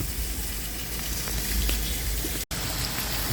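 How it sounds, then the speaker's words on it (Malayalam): Heavy rain driven by wind pours down around a villa during the 2024 Ajman flood, a loud, continuous hissing roar that cuts out for a split second before resuming. "ശക്തമായ നിലയിലുള്ള മഴയും കാറ്റുമെല്ലാം"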